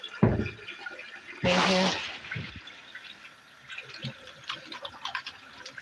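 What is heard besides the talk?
hands being washed under running tap water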